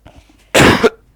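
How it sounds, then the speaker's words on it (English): A single sharp, loud cough from a Dota 2 esports commentator, preceded by faint breathy throat sounds, with the start of a second cough cut off at the end. "For a second while I coughed."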